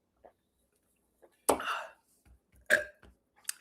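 A loud, wet burp erupts alone at mid-clip during a mukbang eating session, followed by a quieter second belch and small mouth noises.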